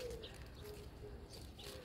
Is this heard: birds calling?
yes